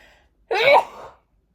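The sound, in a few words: sneeze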